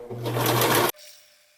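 A sewing machine runs a short fast burst of stitching along the seam of a gaiter mask, then stops abruptly, leaving a faint fading hum.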